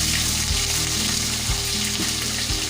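Onions frying in a pan while okra palya is being made: a continuous close sizzle with regular clanks of a stirring spoon about once a second, and no voices.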